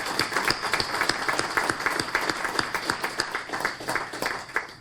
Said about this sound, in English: So we might give a collective round of applause to our panelists this morning.